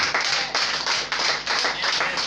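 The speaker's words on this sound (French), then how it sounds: "Et acclamons pour cette parole." A church congregation applauding after a sermon passage, brisk close hand-clapping in bursts with short dips between, loud and without speech.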